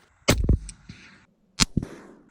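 6.5 Creedmoor rifle firing a Hybrid 100V load, two sharp loud cracks about a second apart, each followed by a short echoing rumble and mechanical rattle.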